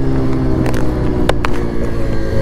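A 2024 Bajaj Pulsar 125 E20 motorcycle accelerating in first gear on a highway, its engine droning loud and steady with strong wind rush throughout.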